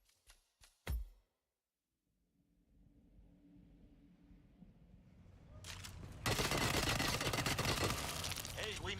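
Submachine gun fire in a video game: a few sharp shots, a brief quiet, a rising rumble, then a loud, sustained burst of rapid automatic fire that runs to the end.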